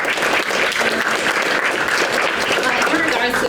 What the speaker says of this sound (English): And so I'll continue a round of applause.